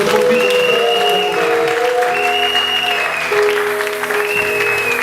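A church congregation applauds loudly and continuously during a prayer service, with sustained keyboard or organ tones ringing over the clapping.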